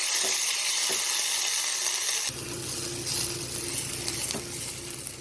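Garlic cloves and dried red chillies sautéing in hot oil give a continuous close sizzle, with a couple of spatula taps and a louder, fuller frying hiss in the second half.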